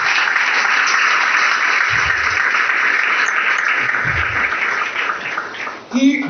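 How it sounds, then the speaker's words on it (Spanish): A church congregation applauds for the Lord, a sustained dense wash of clapping that carries steadily for about six seconds before fading slightly near the end, with a brief voice-like burst at the close. "Fuerte el aplauso para nuestro Señor"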